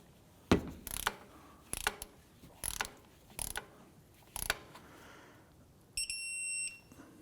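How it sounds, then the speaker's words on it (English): A ratchet torque wrench tightens caliper bolts on the front brakes of a 2004-2008 Acura TL, giving several bursts of close, crisp ratcheting clicks with pauses between, then a brief high electronic beep at the end. "I'm going to torque our caliper bolts to 37 foot-pounds."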